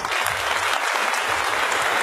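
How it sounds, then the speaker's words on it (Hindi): Dense, even applause from a seated audience at a Vestige business meeting, welcoming an upline member, sustained and close without a break. "ऐसे अपलाइन को भी एक शानदार ताली से स्वागत किया जाए।"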